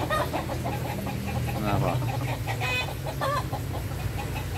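Village chickens roosting up in a tree cluck and call in a steady, busy outdoor chorus over low background noise, with a brief spoken voice partway through.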